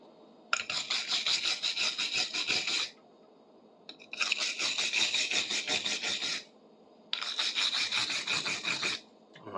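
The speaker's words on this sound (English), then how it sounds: "So let's brush some of this rust off." Brushing rust and old paint off a metal socket tool that has been soaked and neutralised: three long, steady, rasping strokes, close and fairly loud, separated by short pauses.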